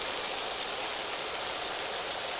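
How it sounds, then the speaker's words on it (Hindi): Monsoon rain pours outside a mountain cave on a high-altitude trek in Uttarakhand, a steady, dense hiss of falling water with no voices. "बारिश हो रही है"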